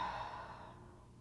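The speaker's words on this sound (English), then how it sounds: "Take a few deep breaths through the nose." A slow, deep breath drawn and released through the nose during a gentle restorative yoga session, one soft, quiet sigh-like exhale fading out alone.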